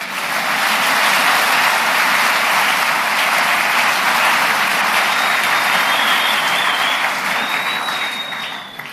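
A church congregation claps and acclaims the Lord during a sermon on fasting: dense, sustained applause with mixed cheering that holds loud and steady, fading slightly at the very end.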